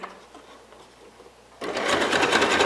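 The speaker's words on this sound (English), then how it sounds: "You're going to stitch across the top of the bowl, just along here where you see the black and white fabric, without touching any of the pink." Sewing machine stitching across the top of a black and white fabric bowl. Near-silence gives way to a sudden, close rapid mechanical whir that runs steadily to the end.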